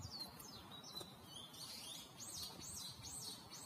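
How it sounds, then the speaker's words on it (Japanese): Small birds chirp at Nanzen-ji temple in Kyoto, with repeated high, quick tweets over a quiet, soft outdoor hush. "鳥のさえずりが聞こえます。"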